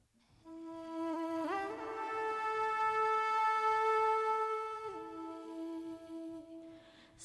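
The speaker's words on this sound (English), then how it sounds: "a recording of my vocals through a TC voice live comes in here." Sung vocals recorded through a TC Voice Live with autotune, a single sustained pitch that steps up, holds, then drops back down, moderately quiet and alone.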